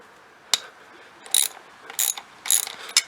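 A 12mm ratchet loosens the axle clamp nuts on a Suzuki DRZ400 supermoto, giving several short bursts of close, crisp metallic clicking with brief pauses between them.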